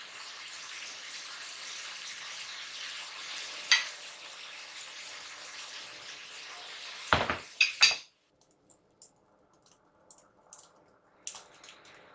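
Steady sizzling of chicken frying over medium heat in a pan for a chicken paneer handi, with a few clanks of a utensil stirring and scraping before the sizzle cuts off.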